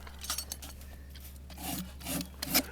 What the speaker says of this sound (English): Now he's trimming the hoof